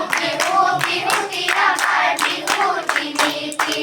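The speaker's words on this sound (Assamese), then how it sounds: "ক্লেপ দিয়া হাত চাপৰি" Hands clap along in a steady, fast rhythm at a summer workshop in Lakhimpur, sharp bright claps repeating close and loud over several seconds alongside group singing of a Bihu song.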